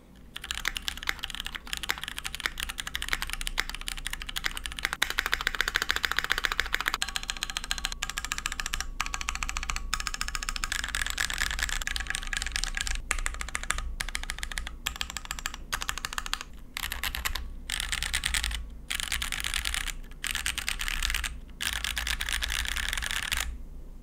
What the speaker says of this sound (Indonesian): keyboard ini tuh suaranya metaliknya tadi tuh lumayan mengganggu di telinga gue